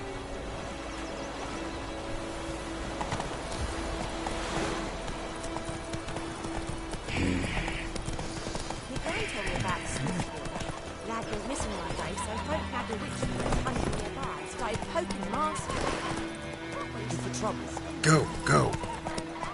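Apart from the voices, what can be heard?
horse galloping and neighing in video game The Witcher 3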